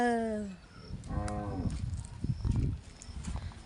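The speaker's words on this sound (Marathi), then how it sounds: "हांबा" A cow mooing close by on a farm with grazing cattle, one long low call with a falling pitch, followed by rustling and handling noises.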